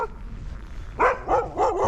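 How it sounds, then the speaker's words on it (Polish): A dog barks from a snowy mound in a Russian fishing village near Murmansk, three loud barks close together after a second of quiet outdoor background. "Piesek na takiej górce ze śniegu"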